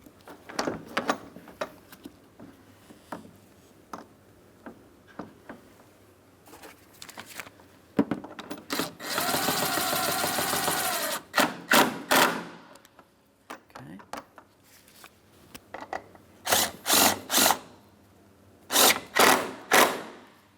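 A ratchet tightens headlight mounting bolts on a 2008-2016 Chrysler Town & Country, with sparse clicks, a sustained whirring burst in the middle and rapid repeated clicking bursts near the end, all close by.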